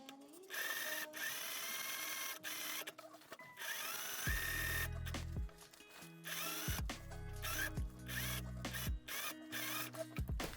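A sewing machine stitches around a pocket on a doll-sized trench coat, its motor whirring in several short bursts with pauses between, mixed with a louder drill-like buzz and no voices.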